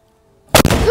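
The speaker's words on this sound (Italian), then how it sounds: "Adesso assisteremo ad uno sparo di cannone." A cannon fires at a battle re-enactment in a single sudden, very loud blast that breaks a near-silent lead-in, followed by a roaring echo and the rumble that trails after it.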